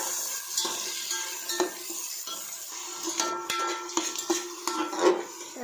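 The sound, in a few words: onions frying in oil with masala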